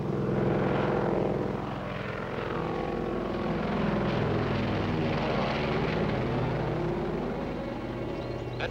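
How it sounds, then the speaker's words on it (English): A propeller airplane drones overhead in an old 1940s adventure serial, a loud, sustained engine roar that swells slightly as it passes, with no speech. "That's Marsden's plane."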